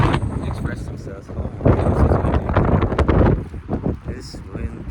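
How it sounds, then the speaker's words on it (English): Gusty wind buffets the microphone in low rumbling surges, with a voice speaking through it. "It's windy."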